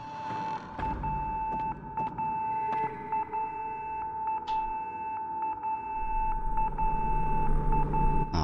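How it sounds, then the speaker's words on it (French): An alarm beeps in the horror game Project Zero 4 (Fatal Frame 4): a sustained electronic tone with repeated short pulses against dull background rumble, steady and fairly loud for the whole stretch. "Mais oui, c'est une alarme."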